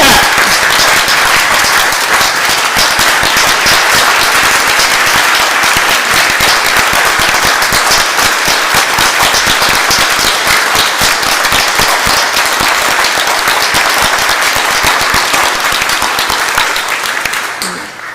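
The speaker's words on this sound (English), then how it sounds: "let's make sure we tell Mara what that rousing applause was all about" Sustained, rousing applause from a church congregation in a shared-ministry service, dense and loud throughout, many hands clapping without pause before tapering slightly at the very end.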